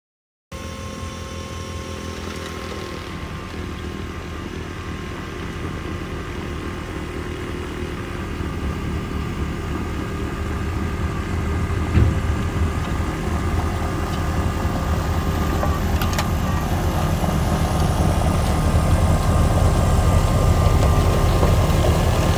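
A snow blower engine runs steadily while throwing snow along a road, a continuous broadband roar that holds for the whole stretch and grows slightly louder toward the end, with no talking.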